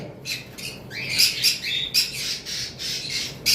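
A pair of lime Fischer's lovebirds squawk and chatter up close: a quick run of shrill, rasping calls with short gaps between them, loud and with no talk over them.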